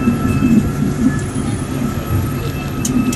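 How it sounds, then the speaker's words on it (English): A tour bus crawls down a glacial moraine in transmission lockup, giving a steady low rumbling drone with faint rattles and clunks and a thin high whine running throughout. "The transmission lockup feature of the bus is what's enabling us to get this down this moraine safely and slowly."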